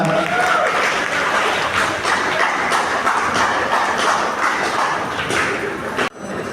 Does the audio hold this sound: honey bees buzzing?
no